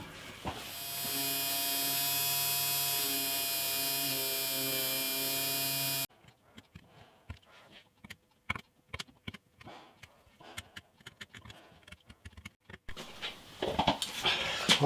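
A rotary tool fitted with a fine printed circuit board router bit whines loudly and steadily for several seconds, then cuts out into quiet, scattered scraping and tapping clicks on mother of pearl inlay work, with a brief buzz returning at the end.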